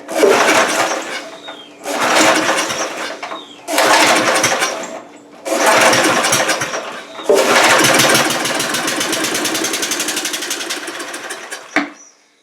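A small Snapper lawn mower engine is pulled and sputters several times in short bursts, then catches and runs steadily and loudly before cutting off abruptly.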